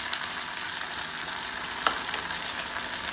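Kebab pieces and vegetables sizzle loudly in a hot pan while being stirred, a steady frying hiss with occasional scrapes and clinks of the spoon.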